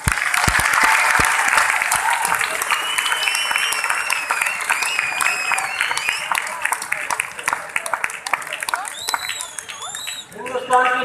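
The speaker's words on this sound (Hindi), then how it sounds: "एक बार गुड डॉट के लिए जोरदार ताली दें" Loud, sustained audience applause at an RCM anniversary gathering, a thick continuous patter of many hands with music playing over it and a voice coming in near the end.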